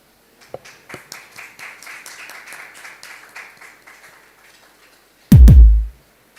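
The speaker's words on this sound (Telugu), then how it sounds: "అందరు చప్పట్లు కొట్టి అయ్యగారిని వెల్కమ్ చేద్దాం" An audience at a church youth conference claps in a steady rhythm for several seconds to welcome a guest, fading slightly before a single loud, low thump at the end.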